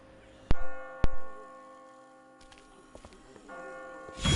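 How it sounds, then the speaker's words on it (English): Church bells ring in The Walking Dead video game, two loud struck tolls about half a second apart, each decaying with a long resonant hum, followed by softer distant clanks and a rising noise at the end. "I just got spooked by those bells"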